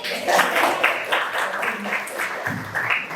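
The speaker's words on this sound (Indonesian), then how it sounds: "Ya, bagus kan tepuk tangan ini." Classroom students clap in a quick, uneven round of scattered hands, fairly close, fading in and out over a few seconds with voices mixed in.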